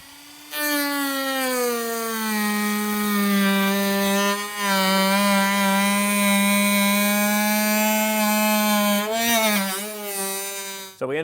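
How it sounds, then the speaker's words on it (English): A handheld Dremel rotary tool cuts a plastic part of a Roadmaster Direct-Connect base plate kit for a 2011 Jeep Wrangler, giving a loud, sustained high-pitched whine close by, with brief dips in pitch as it bites into the material. "I've got a Dremel tool here. This is just going to make it a little easier for me today."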